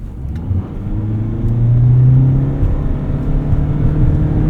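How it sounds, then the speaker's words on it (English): A 2024 Toyota Prius Limited AWD in sport mode accelerates from a standstill toward 60 mph on snow, its steady motor whir and road noise swelling in loudness and rising smoothly in pitch, heard from inside the cabin without talk. "Let's do another 0 to 60 here."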